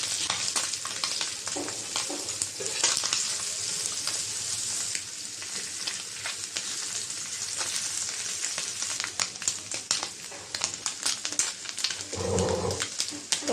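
Mola fish sizzle and crackle steadily in hot oil, a dense continuous frying hiss close by with occasional scrapes and a short louder burst near the end.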